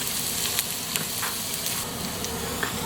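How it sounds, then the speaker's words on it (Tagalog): Garlic frying and browning in a pan for pork asado, giving a steady close sizzle with faint crackles and light stirring scrapes throughout, no voices. "Medyo brown lang po, hindi yung sobrang brown, para lumabas po yung tunay na lasa ng bawang"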